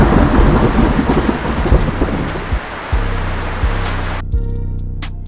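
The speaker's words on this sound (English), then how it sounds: "The violent storm raged on, ravishing the South Florida region." Heavy storm noise with a constant broadband roar of driving rain and wind during a violent South Florida thunderstorm, with low rumbling swells, ending abruptly in a quieter tail of low hum and sparse high pings.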